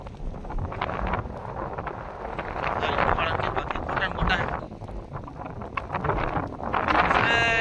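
Strong wind buffets and roars in loud gusts across a village farm field, with a voice talking underneath the blustery noise.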